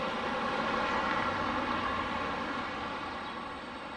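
A Delta Boeing 717 jet departs Detroit Metro Wayne airport, its engines giving a steady, broad roar heard from a distance that slowly eases toward the end, with no voices.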